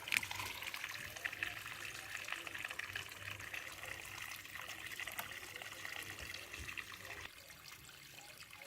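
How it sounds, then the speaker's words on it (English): Water from a garden hose pours continuously while a pool is cleaned by hand outdoors, a steady hissing splash that holds for several seconds before dropping slightly quieter near the end. "the water is pouring out of the hose continuously"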